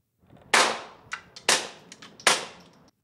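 Suppressed .22 rimfire gunshots through a Rex Silentium MG22 suppressor: three sharp cracks, the first noticeably louder, each trailing into a brief decay, with a faint click between shots and no talking.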